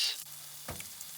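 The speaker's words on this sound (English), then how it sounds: "be mesmerized by the sound of the ham on the pan." Quiet sizzling of Parma ham frying in a pan, a soft hiss with a few faint crackles and no voices.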